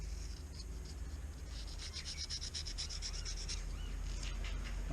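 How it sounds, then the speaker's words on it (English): Body filler is being sanded back by hand on a Ford Super 7 car body during restoration, a continuous close rasping rub that keeps going with a slightly uneven stroke rhythm and no voices. "I'll just rub it all back, get it nice and smooth, ready for painting."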